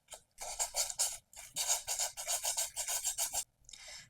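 Close, rhythmic rasping of sandpaper knocking down the edges of a DIY seed pod starburst mirror, in short bursts of quick strokes separated by brief pauses.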